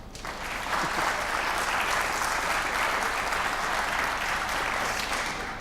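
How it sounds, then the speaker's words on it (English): Audience applause fills a conference hall at a student tech event, a dense, steady wash of clapping that swells in after a moment and holds at full strength before easing slightly at the end, with no voices over it. "Let's give him a big round of applause."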